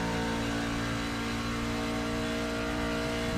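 A NASCAR truck engine in the iRacing game drones in a sustained high-pitched roar at steady speed, continuous and loud without pauses, no voices over it.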